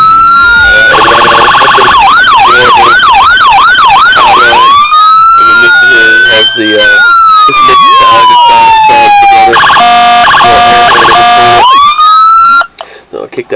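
Loud electronic police siren from a 1:18 scale Saleen Mustang S281E police model car, cycling through wail, yelp and other tones close up, switched off at the end.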